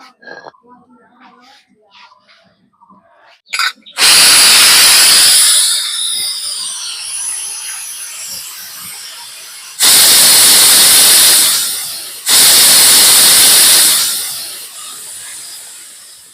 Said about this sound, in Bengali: উনুনে প্রেশার কুকার বসিয়ে দিয়েছি এবার তিনটে সিটি দিয়ে আমি নামিয়ে নেব